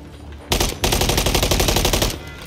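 Rapid automatic gunfire in Modern Warfare 3, aimed at an enemy through a wall: one short burst, then a sustained loud stream of shots for over a second before it stops.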